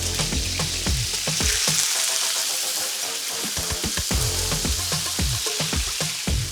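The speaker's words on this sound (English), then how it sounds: "We're not gonna go too much oil because we're not frying, we're just searing." Steady sizzling of meat searing in a hot pan with oil, crackling and popping continuously, close and fairly loud, with occasional clinks of a utensil.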